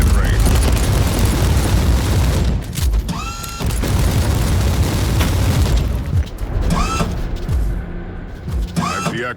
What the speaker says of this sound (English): their mortars attack the Imperial fort with artillery fire